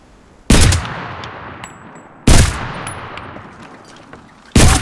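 Three sharp, loud MKB-42 H rifle shots in Enlisted, each a sudden crack with a long ringing decay, spaced roughly two seconds apart and fired at friendly soldiers.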